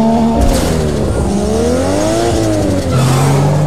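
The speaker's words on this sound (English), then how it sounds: "Launch at the right time and rocket into the lead with speed." A race car in Need for Speed Underground 2 launches off the line, its engine revving loudly and steadily with pitch climbing, dipping briefly at a gear shift and then pulling again, with no voices.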